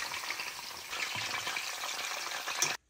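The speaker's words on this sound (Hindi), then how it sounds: "हमारे प्याज और शिमला मिर्च भी फ्राई हो गए हैं" Onions and capsicum frying in hot oil in a kadai, a steady close hiss and crackle that runs unbroken and then cuts off abruptly.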